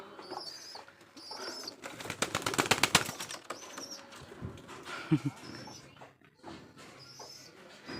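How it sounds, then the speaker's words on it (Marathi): A burst of rapid wing flapping from a pigeon being caught, loud and close, with a few fainter flutters and chirps before and after. "इकडे हे पिल्या पिल्या धर कबूतर धर"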